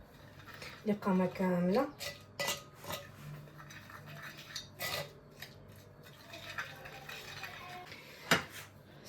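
Ingredients are stirred with a little water in a bowl for a Moroccan dish, giving soft intermittent scrapes and clinks under someone talking nearby.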